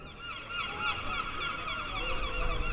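Seagulls in Blackpool, England, giving a steady run of repeated calls at moderate distance over a soft outdoor background, with no voices.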